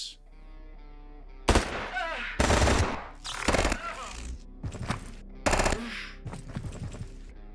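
Pistol or nail gun shots in the Quasimorph video game, several sharp separate bursts spaced irregularly over about six seconds, loud against a quiet background.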